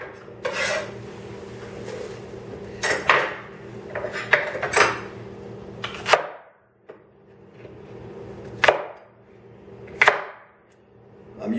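Food scraps, stems included, tossed into a metal kitchen strainer, giving a run of sharp clattering knocks and rattles at irregular intervals with quieter pauses between, close and fairly loud.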